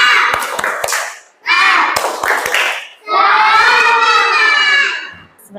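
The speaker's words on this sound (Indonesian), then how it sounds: "Kalau kita tepuk semangat bareng-bareng, tepuk semangat." Schoolchildren in an Indonesian classroom perform the 'tepuk semangat' clapping chant together, sharp rhythmic claps mixed with loud shouted group chanting in three bursts, close and energetic.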